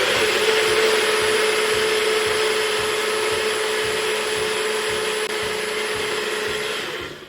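A NutriBullet blender runs continuously, whirring silken tofu and jalapeno sauce with a loud steady motor roar and rhythmic churning, then winds down at the very end.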